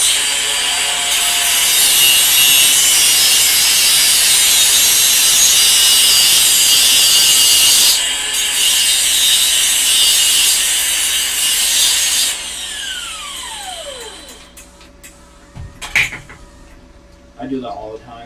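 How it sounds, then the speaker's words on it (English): An angle grinder bites into a metal welding tip, giving a bright, harsh hiss that runs steadily for about twelve seconds with a brief pause, then winds down with a falling whine followed by a few clanks and handling noises. "just take the grinder and grind the tip"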